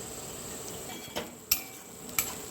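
Onion fries in a pan with ginger and green chili paste for ragda patties, a faint steady sizzle broken by three crisp spoon-on-pan clinks.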